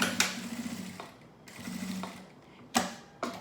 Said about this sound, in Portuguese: Vou voltar vocês aqui pra máquina pra gente passar uma costura em toda a volta